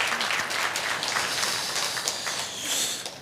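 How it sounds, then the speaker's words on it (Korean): A church congregation at a Sunday afternoon service claps for nine newly appointed deacons and elders, a dense, even patter of many hands at moderate distance that carries on steadily without a break. "우리 한번 이 9분 축복하면서 뜨겁게 박수 부탁드리겠습니다."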